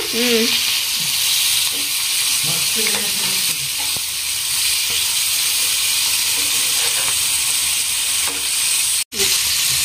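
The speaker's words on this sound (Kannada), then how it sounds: "ನೋಡಿ ಶಿಮು ನಮ್ಮ ಮೀನಾ ಎಷ್ಟು ಫ್ರೈ ಆಗಾಕತ್ತವ" Fish frying in hot oil, a loud continuous sizzle and crackle close up, with a few soft stirring clinks and a brief muffled voice early on.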